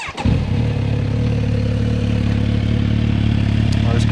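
Kawasaki Z900RS motorcycle engine cranking and catching, then settling into a steady, loud, close idle with a low throbbing drone and a voice faintly underneath.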